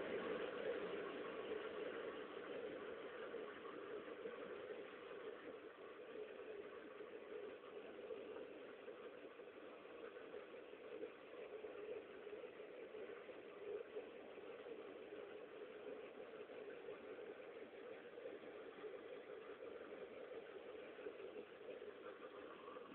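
A Peugeot 206 GTi engine runs steadily during a decarbonising job, a low, even hum with a faint knocking texture, muffled and quiet throughout with no talk.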